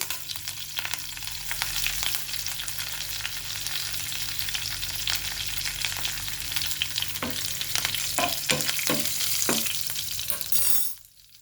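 Dried red chilies and curry leaves frying in hot oil for a sweet potato and eggplant pulusu, a loud constant crackling sizzle with a few spoon scrapes near the end before it cuts off.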